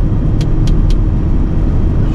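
Loaded 26-tonne truck rolling downhill in manual gear with engine braking and no brakes, a steady loud low engine rumble throughout with a few brief faint high hisses.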